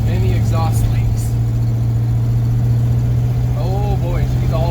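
A 1978 Ford pickup truck's engine drones steadily as it drives in third gear, a loud, continuous low hum with faint voices briefly heard over it.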